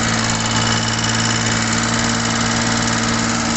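A Suzuki DA62V with a K6A engine idles roughly at high RPM, a steady close mechanical drone with a faint knocking flutter, running alone without talk.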